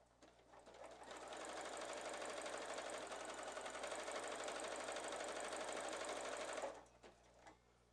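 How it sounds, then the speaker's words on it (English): A sewing machine stitches two pieces of sundress fabric together in one continuous fast run of about six seconds, a steady close mechanical whirring hum that starts and stops cleanly. "I'm going to stitch these 2 together"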